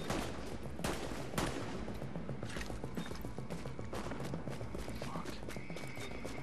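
Distant gunfire in The Division's Dark Zone, scattered sharp cracks and rattling bursts sounding far off over a continuous mechanical game background.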